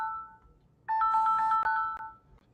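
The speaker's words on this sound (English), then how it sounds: "Why am I getting a phone call right now?" A phone ringtone starts abruptly after a near-silent moment and plays loudly as a steady electronic melody for over a second, with two brief gaps.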